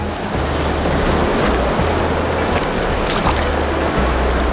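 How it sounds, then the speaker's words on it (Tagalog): Sea surf rolling in at the beach in Baganga, Davao Oriental, a loud, continuous wash of waves mixed with heavy wind buffeting the microphone throughout. "Napakinanda ng dagat dito sa Baganga."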